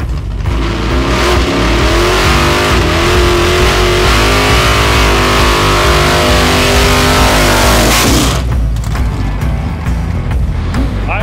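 Drag car doing a burnout to scuff in fresh 275 tires, a loud, close, sustained engine roar with tire howl, rising then cutting off sharply near the end before a quieter tail.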